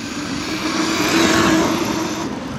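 A Traxxas Maxx RC car on paddle tires tears through sand, its motor whining close and loud, swelling to a peak midway before easing slightly.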